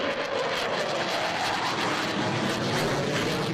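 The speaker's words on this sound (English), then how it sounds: "The roaring CF-18 Hornet and Griffin helicopter rounding out the military performers." A CF-18 Hornet military jet roars overhead at a rainy air show in Barrie, a loud, continuous broadband engine rumble that fills the whole stretch without pause.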